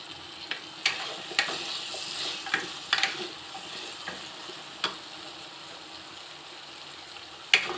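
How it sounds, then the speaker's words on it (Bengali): Pointed gourd fries in a pan of oil with a little salt and turmeric, a soft steady sizzle punctuated by scattered sharp pops and stirring clicks, close up with no voices. "এবার এটা একটু হালকা করে ভেজে নেব।"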